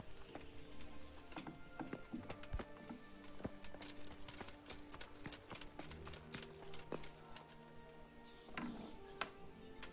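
Hooves of a horse in the video game Kingdom Come clop in a steady, irregular patter, faint and mid-distance, with light scattered taps over a quiet background.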